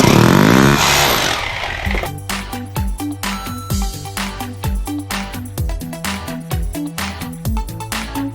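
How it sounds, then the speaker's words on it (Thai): A power drill bores into soil to sink an electrical grounding rod behind a building, starting with a loud grinding whine and settling into a rapid, steady rhythmic hammering pulse, close and loud. "ตอนนี้เราก็เริ่มเจาะหาดินหากาว"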